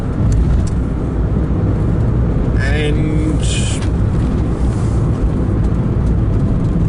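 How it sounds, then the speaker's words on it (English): A car passes by on a road with a broad, rising and fading engine and tyre roar, fairly close, while a person speaks briefly over it. "that's it, let's just let that car go."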